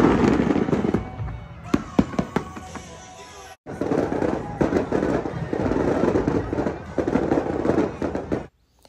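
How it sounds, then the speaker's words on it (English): Fireworks show going off outdoors on a New York City street, a rapid series of loud bangs and crackling bursts with a brief lull before more dense explosions. "So as I ate, the fireworks went off."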